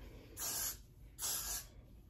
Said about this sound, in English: I'm gonna go ahead and spray my hair with some of this.